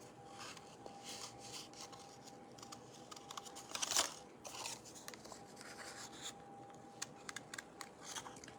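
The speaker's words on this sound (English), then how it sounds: "I've learned that you turn the paper and don't focus too much on turning" Scissors snip through card paper in a crafting session, giving soft, close cuts and rubbing as the paper is turned, with one brighter, sharper snip midway and no talking.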